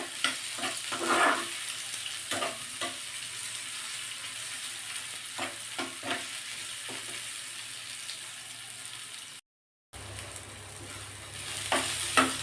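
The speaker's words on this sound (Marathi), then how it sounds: "कांदा थोडासा तांबूस होईपर्यंत आपल्याला परतून घ्यायचा आहे" Onion sautéing in a pan for prawn masala, a steady sizzle with repeated stirring scrapes at an irregular rhythm and a short silent gap near the end.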